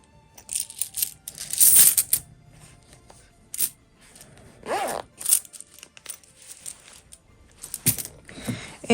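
Coins jingle and clink as they are dropped into a sewn fabric wallet, with several short bursts of metallic rattling mixed with fabric rustling, close up and fairly loud.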